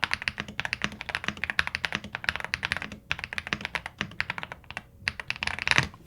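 Rapid clacky keystrokes on a Chilkey ND75 mechanical keyboard, close and crisp, in an uneven continuous typing rhythm with brief pauses.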